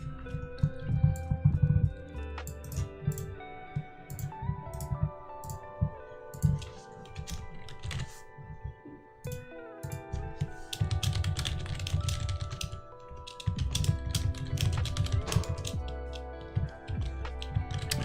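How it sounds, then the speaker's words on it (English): Someone types on a computer keyboard in fast, uneven bursts of clicking keystrokes with brief pauses between runs, close up and without speech. "Pardon me while I do a little bit of typing."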